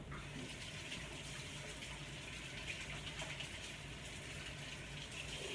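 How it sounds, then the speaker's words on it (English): Water runs steadily from a kitchen tap as hands are washed, a continuous close gushing stream with no pauses. "I'm just gonna wash my hands."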